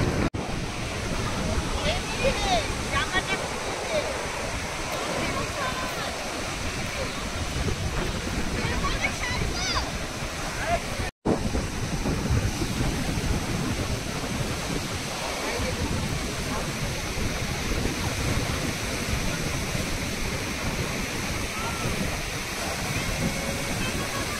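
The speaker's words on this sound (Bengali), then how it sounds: "মানে এটা আলটিমেট ঢেউটা। আমি একবার দেখাই আপনাদের।" Sea waves roll in at Gangasagar beach, a continuous loud roaring surf with steady wash and wind buffeting the microphone, heard close and sustained.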